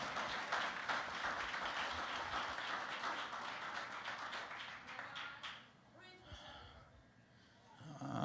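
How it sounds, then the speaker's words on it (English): Church congregation clapping for one another and their leaders, a dense wash of applause that thins out after about five and a half seconds, with scattered claps and murmuring at the end. "Can we just clap for one another?"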